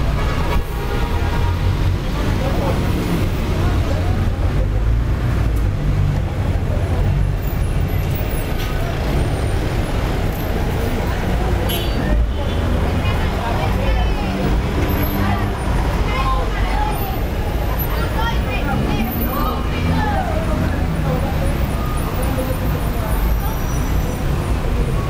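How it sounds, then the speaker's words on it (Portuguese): Dense city street traffic in Caracas, with city buses rumbling past, engines droning and hissing brakes, forming a loud, continuous roar throughout with a busy background hubbub. "Esses são os ônibus daqui."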